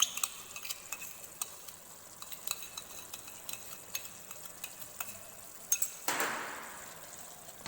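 A spoon scrapes and clinks in a pan while ginger garlic paste and onion are stirred, giving a soft sizzle with scattered sharp taps, and a louder scrape near the end.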